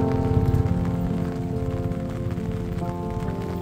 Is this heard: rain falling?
yes